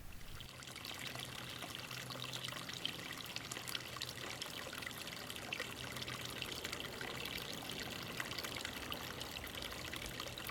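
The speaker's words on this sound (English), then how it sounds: "Here, a small pipe is draining water from a seep near Collin Club." Water drains from a small pipe at a spring seep beside a creek, a soft, continuous trickle and splash that holds steady throughout, faint and close with no voices.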